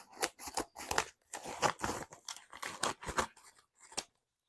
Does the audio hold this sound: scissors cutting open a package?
yes